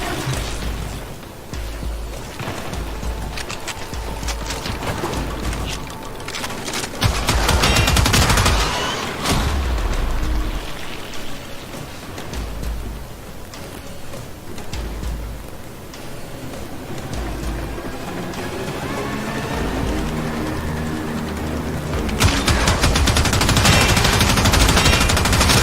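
Gorgon gun fire in the Warframe video game: sustained rapid automatic bursts with heavy low thumps, stopping and restarting in loud stretches over a dense game soundscape, with a final loud burst near the end.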